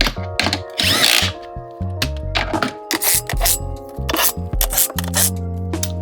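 A power drill tightens the six screws on the cover of a leaking pool pump motor after a mechanical seal change, in loud, close, stop-start whirring bursts with ratcheting clicks.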